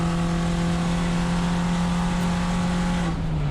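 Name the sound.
VW Jetta GLI Super Touring Car accelerating on track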